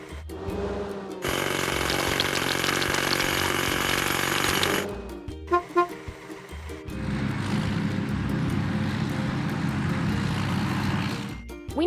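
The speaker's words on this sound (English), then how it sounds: "Hydraulic hammer." A hydraulic hammer on a construction site breaks rocks in a long, loud, continuous rattling burst that stops abruptly, followed by a few knocks and then a rougher, lower stretch of pounding.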